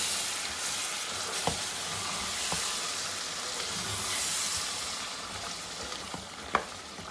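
Masala frying with yogurt for white chicken biryani: a steady, broad sizzle and hiss fills the pan, broken by a few sharp clicks of a spoon stirring against the metal.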